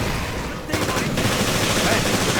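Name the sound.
gunfire from video game Resident Evil Revelations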